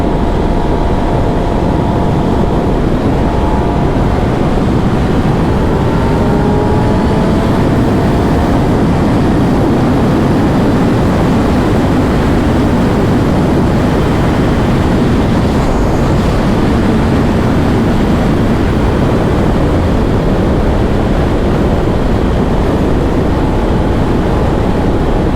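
Steady roaring wind rush while riding a 2023 Kawasaki ZX10R sport motorcycle at over 100 miles an hour, a loud continuous broadband buffeting with faint engine tones running underneath for the whole stretch.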